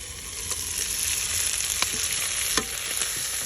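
Beef stir-frying with onions and green onions in a hot pan, giving a steady, loud sizzle throughout with a few sharp crackles and pops and no talking.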